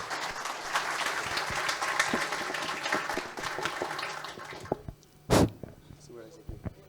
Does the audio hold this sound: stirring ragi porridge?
no